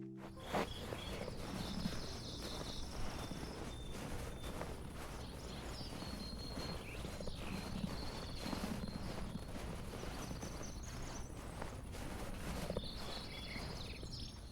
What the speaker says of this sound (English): if you're walking in a snowy area, you'll actually hear snowy footsteps